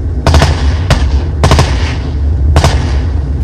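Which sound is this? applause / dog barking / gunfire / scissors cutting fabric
gunfire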